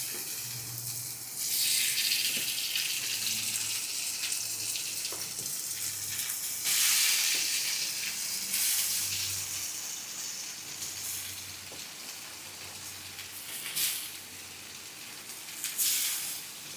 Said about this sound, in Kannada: ಎಣ್ಣೆ ಹಾಕ್ತಾಯಿದ್ದೀನಿ. ಓಕೆ, ಈಗ ಫಿಶ್ ಹಾಕೊಂಬಿಡೋಣ.